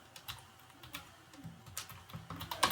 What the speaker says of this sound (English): Now I will type with you guys.